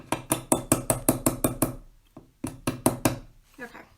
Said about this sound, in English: Let me use this little hammer since I'm sitting down.